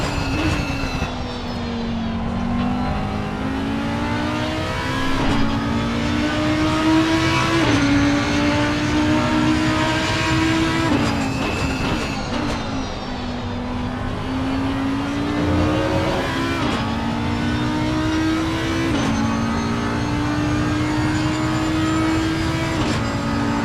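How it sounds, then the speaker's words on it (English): Race cars lapping Bathurst circuit during a birthday race, engines revving and droning past in long rising and falling sweeps, loud and continuous with overlapping cars and no talk. "We can enjoy the sounds on all these cars"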